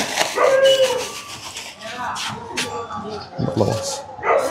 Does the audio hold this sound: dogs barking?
yes